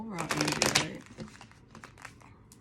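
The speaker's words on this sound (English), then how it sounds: "So let's go ahead and shuffle, get our pre-energy, well, overall energy, right?" Tarot cards being shuffled, a loud riffling burst near the start followed by softer sliding and tapping of cards, with a voice talking over the handling.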